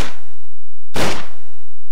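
Two loud, sharp Luger pistol shots in Minecraft with the Flans mod, each a close crack with a quick decaying tail, spaced about a second apart.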